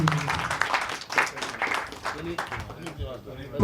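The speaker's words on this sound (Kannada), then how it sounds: "ತಂಡದಿಂದ ಒಂದು ಚಿಕ್ಕ ಚಪ್ಪಾಳೆ ಇರಲಿ" A press-meet team for a film trailer launch gives a short round of clapping, mixed in with overlapping talk.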